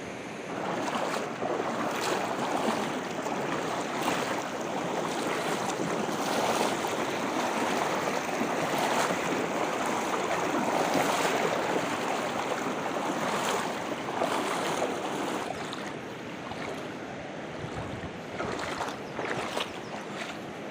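A swollen village river rushes steadily as people wade across it, the broad, continuous roar of flowing water holding close and loud throughout, with no voices.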